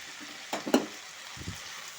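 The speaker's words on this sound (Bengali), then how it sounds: "এখন আমি এর মধ্যে দিয়ে দেব ভেজে রাখা চিংড়ি মাছগুলো।" Pre-fried prawns drop into a pan of cooking Malabar spinach, giving a brief stirring clatter and soft sizzle, followed by a quieter pair of taps. Close and fairly quiet, with no talking.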